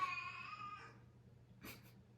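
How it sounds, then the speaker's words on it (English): A pet cat meows in a drawn-out, wavering cry near the microphone in a quiet room with a low steady hum, followed by a brief rustle or breath. "That's my cat."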